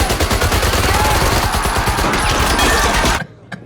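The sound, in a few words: gunfire in a Tarantino film scene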